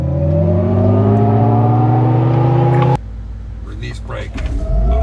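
Loud electric whine of a 9,000-pound, 1,000 hp Hummer EV pickup launching from a standstill, a rising motor tone that cuts off abruptly, leaving road and wind roar with a voice talking over it.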